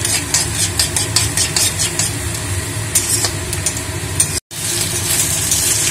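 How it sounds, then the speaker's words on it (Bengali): Onions sizzle steadily in hot oil, with scattered pops and crackles close by, and no one speaking. "এখন পেঁয়াজটা ভাজা হচ্ছে"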